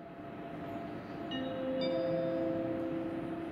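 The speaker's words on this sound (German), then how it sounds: "Gleis 3, Einfahrt ICE" An ICE train rolls into a platform at Berlin Ostbahnhof as a low, steady rumble that swells gradually, with thin metallic brake squeals rising over it partway through.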